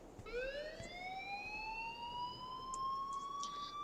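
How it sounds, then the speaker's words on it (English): An alarm blares in the video game Life is Strange, a wailing electronic tone that sweeps upward and holds steady, carried by bright stacked harmonics, with faint clicks behind it and no talking. "please turn off that alarm since that's your job."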